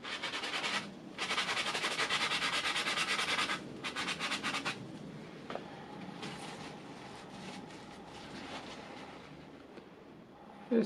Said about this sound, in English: Just giving it a little sand with that sanding sponge just to get the surface rust off